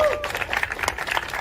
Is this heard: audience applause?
yes